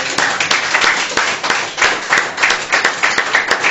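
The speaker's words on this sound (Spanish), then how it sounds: "Den un aplauso al Señor nuevamente" A church congregation claps and applauds after a call to praise the Lord, with sharp individual claps standing out from a steady broadband wash of hands, close and loud throughout.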